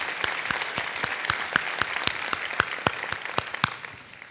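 A small audience at the NTAC 2012 awards ceremony claps for the award winners in crisp, evenly spaced claps that carry on for several seconds, then thin out and fade toward the end.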